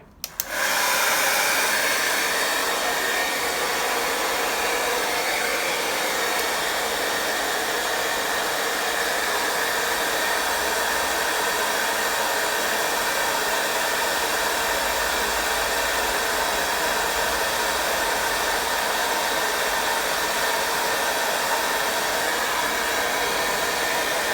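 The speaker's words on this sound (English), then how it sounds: "now I'm gonna use my hair dryer just to make things dry a little quicker" A hair dryer switches on and blows with a loud, steady whoosh, running continuously up close without pause.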